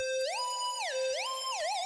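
A bright synth lead holds a note, then glides up and down between pitches in smooth slides, a single synthesized line playing alone.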